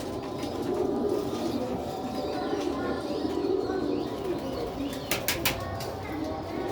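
Sialkoti pigeons coo in a steady low murmur close by, with a brief chirping burst near the end and no talk over them.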